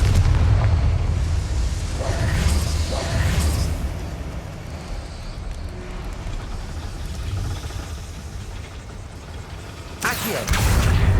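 Confringo fire spell explosions in Hogwarts Legacy gameplay: deep booming blasts open the clip, rumbling game ambience follows, and a sharp fresh burst hits near the end, with no talk.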